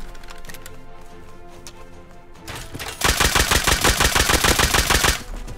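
A rapid burst of automatic gunfire in the video game Rust, about two seconds of loud, evenly spaced shots that start abruptly after a quieter stretch of game sounds.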